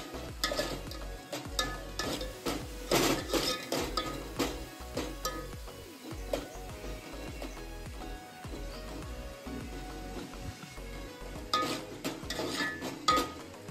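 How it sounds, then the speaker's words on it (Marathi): Stirring an onion mixture in a cooking pot, with steady scraping and clinking of a utensil against the pot over a soft sizzle of frying, continuous and close with busy bursts throughout. "चांगलं असं मिक्स करून घ्यायचं पहिले"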